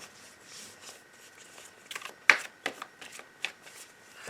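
Tarot cards are shuffled and cut by hand, giving a series of soft, quick riffling flutters and sharp taps, close and fairly quiet, with no talk.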